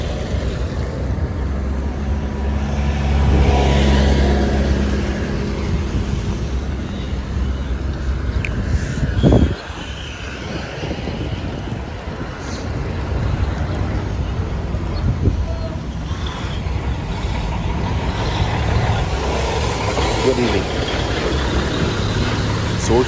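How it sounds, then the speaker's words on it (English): Cars and engines rumble steadily along the Takoradi highway during a road dualization project, a continuous loud drone of passing traffic and idling motors with voices now and then. "These are some of the cars"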